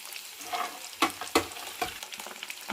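Dried red chillies and garlic frying in hot oil with mustard seeds for a carrot pickle, a close soft sizzle punctuated by a few sharp crackles and pops near the middle.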